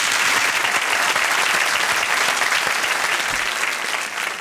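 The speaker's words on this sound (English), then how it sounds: "A round of applause for the masterclass." Dense, steady applause from a studio audience after a cooking masterclass on confit duck, loud and sustained throughout, fading slightly at the very end.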